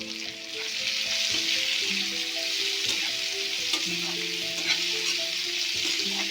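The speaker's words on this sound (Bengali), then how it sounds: "এবার আমি দিয়ে দেবো পেঁয়াজ কুচানোটা, পুরোটাই দিয়ে দেবো" Onions sizzle and crackle steadily in hot oil, with occasional stirring clinks against the pan and a faint tonal hum in the background.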